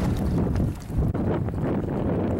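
Strong wind buffets the microphone on a lake during a bass fishing trip, with loud, gusty low rumbling throughout and no clear talk.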